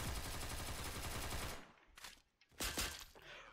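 Gunfire in a video game: a rapid, dense burst of automatic shots, then a short gap and two or three sharper single shots, loud and close.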